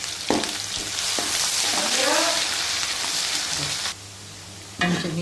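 Curry leaves frying in hot oil, a loud continuous crackling sizzle with a brief stir, quieter for a moment before bursting up again, with no voices.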